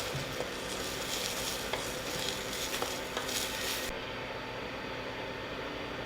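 Seasoned food with salt and pepper is stirred in a frying pan while making crunch wraps: a soft, steady sizzle with scraping strokes from the spoon, fairly quiet and close, with no talking.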